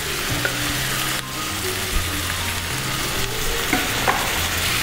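Lamb frying loudly in butter and garlic, a dense, continuous sizzle with occasional spoon taps and scrapes as it is stirred and basted, close and constant with no talking.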